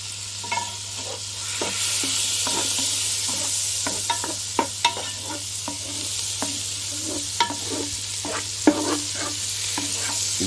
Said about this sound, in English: Okay, in with the butter. Get that sizzle going.